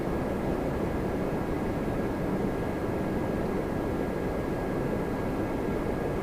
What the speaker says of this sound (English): There is the 747-400 from Frankfurt, Lufthansa